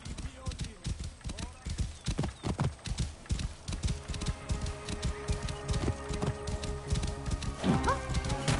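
Horse hooves clip-clop in rhythmic strides in Assassin's Creed Origins, close and clear, with a neigh near the end and a voice talking in the background.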